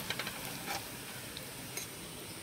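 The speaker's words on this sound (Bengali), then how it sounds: "আর এই পেঁয়াজটা হালকা ব্রাউন কালার আমরা ভেজে নেব" Onions fry in a pan, browning with a soft, steady sizzle that stays faint and even, with a few light clicks near the start.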